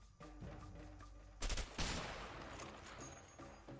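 Gunfire from the co-op video game A Way Out: a quick burst of shots followed by a second sharp volley against a busy game soundtrack, moderately loud.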